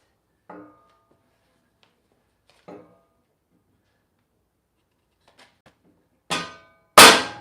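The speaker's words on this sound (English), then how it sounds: "I'm smashing my new bumper on my new side-by-side with a sledgehammer" A sledgehammer strikes a new accessory front bumper on a 2023 Honda Pioneer 520 side-by-side: two lighter, widely spaced knocks, a pause, then two loud, sharp metallic blows close together at the end.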